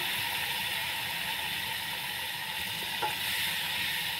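Pieces of fish frying in hot oil, a dense, even crackling sizzle that carries on steadily throughout, with a faint tap partway through.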